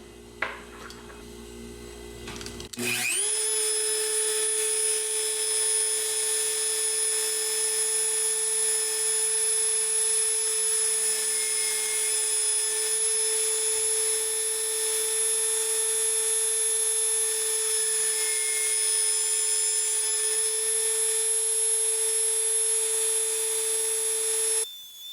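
Drill bit boring into a wet stone heart pendant, a steady high-pitched whine that starts abruptly after a brief quiet moment and holds evenly and loudly for over twenty seconds.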